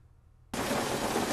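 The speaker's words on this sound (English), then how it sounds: "Of rain hitting a roof." Rain drums steadily on a roof in a film scene, a dense hiss that switches on abruptly about halfway through and holds loud and even to the end.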